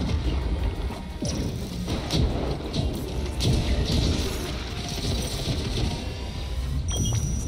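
Charged-up lightning strikes in the video game Risk of Rain 2 hit with loud crashing bursts and booming impacts, layered with dense game noise and repeated sharp cracks throughout.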